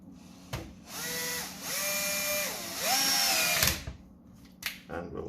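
A power drill drives a bolt into an HPA Spring Thunder conversion part, whirring loud and close in three rising and falling bursts of a few seconds each, with clicks and handling knocks before and after.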